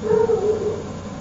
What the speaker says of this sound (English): that is my dog Max saying he does not remember that